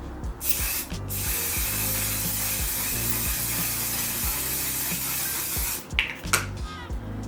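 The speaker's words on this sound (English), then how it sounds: "you want to be using your one size setting spray" One size setting spray misted onto a made-up face, a loud, sustained hiss up close with brief gaps and clicks of the pump between sprays.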